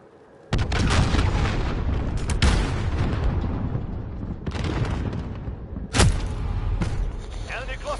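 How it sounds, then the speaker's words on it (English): Cruise missile explosions in Call of Duty: heavy booming blasts with rumbling roars, a big one near the start, another around two seconds, and a sharper impact near the end, over continuous battle noise with faint voices. "Allied cruise missile launched"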